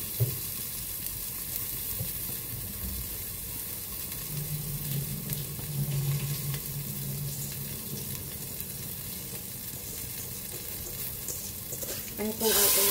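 Rice frying in a pan with ginger and garlic for Hainanese chicken rice, a steady close sizzle with scraping stirs and a brief clatter at the end, no talking.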